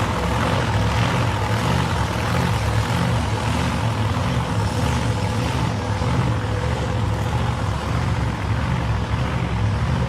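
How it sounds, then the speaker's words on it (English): Supercharged muscle cars with big top-mounted blowers roar at South Coast Raceway, a dense, loud, continuous engine drone that holds steady throughout without a break. "Have a listen to these cars. There's muscle cars here"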